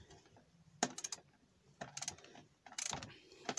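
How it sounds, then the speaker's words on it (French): Ratchet wrench clicking in short bursts while undoing screws on the EGR valve of a Mercedes A 180 CDI, using 10 mm and Torx sockets; three separate close, moderately loud ratcheting spells with quiet gaps between them. "on dévisse ces vis là"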